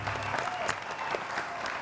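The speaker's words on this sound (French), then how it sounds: "Allez, on va applaudir nos amis." A studio audience applauds guests on a French television show, dense continuous clapping filling the room, steady and moderately loud from start to finish.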